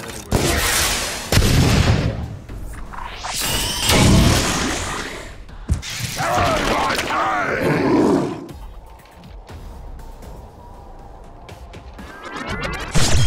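Weapon fire from the character Zuki in the video game Atlas Reactor: a run of loud, heavy booming blasts and roaring bursts, with brief quieter gaps between volleys.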